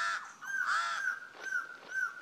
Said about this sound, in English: The pied crows have built their nest in the highest branches.